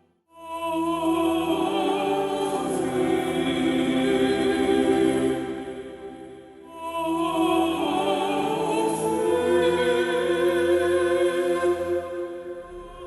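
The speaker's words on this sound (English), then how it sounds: "you're going to hear the singers follow along with the notes that I" Gothic Stage Choir sample library voices sing sustained, harmonically rich notes following played keys in two long phrases with a brief dip between, loud and continuous with no talking.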